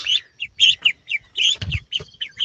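Birds on a homestead, presumably ducks: a run of short, bright calls and chirps in quick succession, close and fairly loud, with a brief low scuffle partway through.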